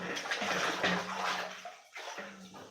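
Water runs from a tap for washing dishes in a steady broadband rush, with a brief break near the end before flowing again, close by and fairly loud.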